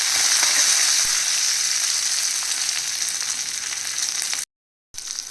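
Green chillies, garlic and onion fry in hot oil with browned urad dal, giving a loud, close, steady hiss that fades slightly before a brief dropout, then resumes.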